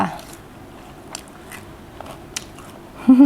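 Bites into crispy pork belly fried with fish sauce, a few faint crunches close to the mic, with a voice briefly speaking at the end.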